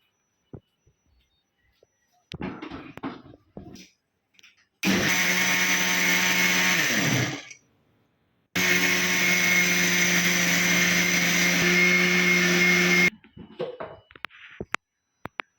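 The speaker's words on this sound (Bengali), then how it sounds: "এখন আমি ব্লেন্ডারে জারটা লাগাই নিচ্ছি মুখটা এখন আমি এটা ব্লেন্ডার ব্লেন্ড করে নিব" An electric blender whirs through sugar, eggs and oil for an orange cake in two loud, sustained bursts separated by a short pause, with handling knocks and clatter before and after.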